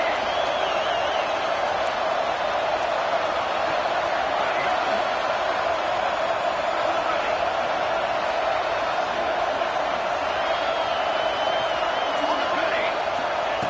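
Steady, dense stadium crowd roar from a college football video game matchup against Penn State, a continuous wash of noise holding at an even level throughout with no speech.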